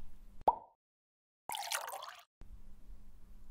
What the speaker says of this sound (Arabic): نضع ألوان الطعام في القوارير الفارغة بحيث يكون كل لون في قارورة